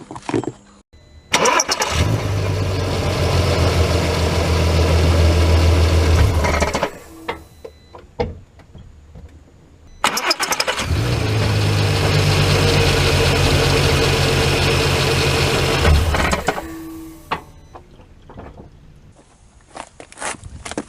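A Volkswagen R32 with a 3.2 VR6 engine is started twice at close range; each start cranks, catches and idles loudly for several seconds before shutting off, with quiet handling noises between.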